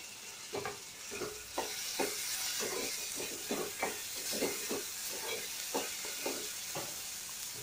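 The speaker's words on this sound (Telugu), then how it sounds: "టమాటాలు వేసి ఒకసారి కలిపేసేసి ఇప్పుడు మూత పెట్టి సాఫ్ట్ అయ్యే వరకు మగ్గనిద్దాం" Chopped tomatoes stirred into frying onions in a pan, a steady sizzle broken by a series of regular spoon scrapes and clinks, close and alone without talk.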